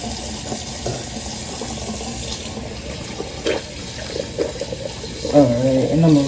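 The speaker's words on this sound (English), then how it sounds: "I'm gonna rinse this off now." Water runs steadily from a bathroom tap into a sink while skincare product is rinsed off, a continuous close splashing with soft hand movements and a voice speaking near the end.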